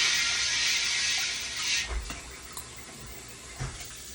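Tap water running into a pot being filled for a batch of greens, a bright hissing stream for about a second and a half that then cuts off, leaving a few soft clunks and drips.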